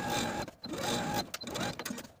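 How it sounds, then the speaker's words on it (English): A sewing machine bastes close to a raw edge on a button-up top, short bursts of rapid stitching broken by brief pauses, close and clear. "take it to our sewing machine and baste close to this raw edge from the bottom to the top of the garment"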